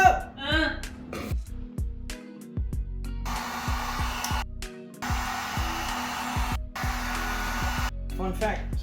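A heat gun blasting hot air in a steady, loud roar that runs for a few seconds, cuts out briefly, then resumes, with music and voices in the background.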